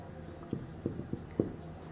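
Chalk or marker taps and scratches on a board during a classroom geometry lesson, a few short separate strokes, quiet and close with no talking.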